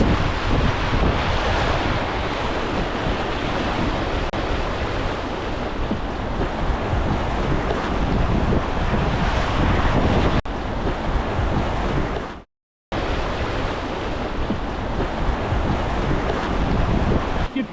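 Waves splashing against a canoe on Saskatchewan's Porcupine River, a loud, continuous rushing wash with heavy wind buffeting the microphone, briefly cutting out near the end.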